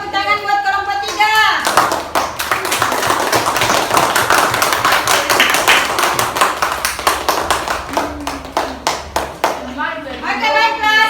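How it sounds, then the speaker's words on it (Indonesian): Classroom applause for a student group, a burst of many children clapping that builds into dense clatter, then thins into rhythmic individual claps, framed by children's voices chattering at the start and end. "Coba beri tepuk tangan buat kelompok 3."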